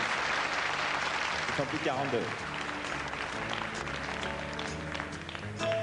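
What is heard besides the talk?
audience applause for Miss Franche-Comté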